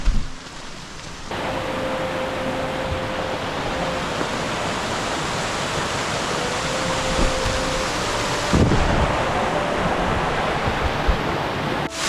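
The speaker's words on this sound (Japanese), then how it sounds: "滝の近くまで来ましたけど、パイプから流れてるみたいですね" Water pours from a pipe near a waterfall in an abandoned mountain village, making a loud, steady rushing hiss that brightens slightly partway through.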